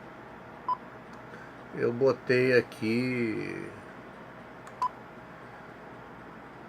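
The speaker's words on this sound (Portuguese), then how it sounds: "E como eu gosto de um bip bem curtinho" An RP-80 radio gives two very short function beeps set seconds apart, crisp and moderately loud, while someone speaks briefly between them.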